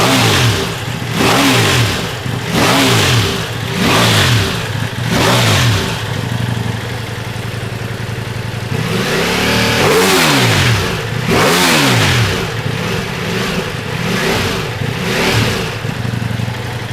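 A 2022 Ducati Multistrada V4S motorcycle engine with its stock exhaust blips through several quick, punchy revs, then gives a few longer, rising revs that drop back toward idle. The sound is loud and close throughout.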